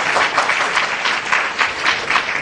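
An audience applauds a poet at a poetry gathering, a dense, loud wash of many hands clapping in rippling waves, continuous from start to finish.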